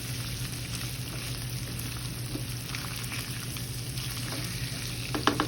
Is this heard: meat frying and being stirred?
yes